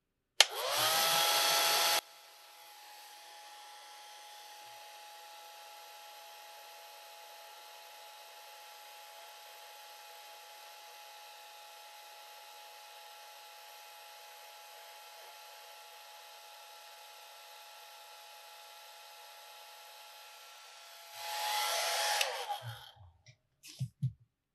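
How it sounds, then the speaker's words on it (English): A hair dryer dries watercolor paint: after a brief louder burst at the start, a steady whirring airflow hum runs for about twenty seconds, then swells briefly louder before shutting off with a few clicks. "I'm going to dry the paint"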